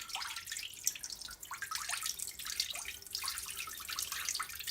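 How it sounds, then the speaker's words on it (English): Water is poured slowly off tomato seeds settled in a jar, a steady soft trickling and splashing stream with small drips, close and fairly quiet, continuing without any talk. "Just pour it off nice and slow."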